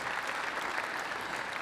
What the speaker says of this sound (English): Let's give Wendy and her family a round of applause.